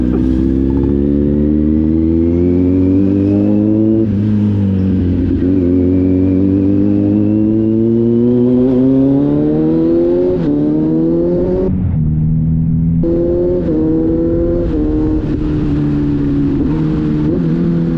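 Kawasaki Z900 superbike engine revving hard in first gear, a loud, continuous close-up roar climbing steadily in pitch, briefly dropping off near the end before rising again.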